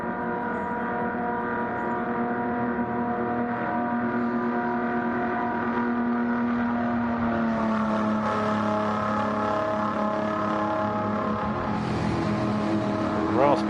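Ford GT race car at Monza with a raspy old exhaust, a sustained engine drone that rises and shifts pitch as it revs and passes, fairly loud with a commentator talking over it.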